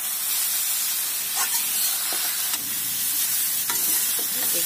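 Sarson ka saag roasting in a pan with a steady, close sizzle and hiss, while a spoon scrapes and stirs at irregular moments throughout, drying the greens down.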